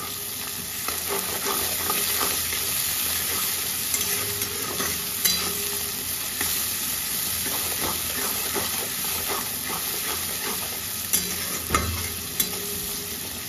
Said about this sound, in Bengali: এটাকে আমি গরম ফুটন্ত তেলের মধ্যে এবার অ্যাড করব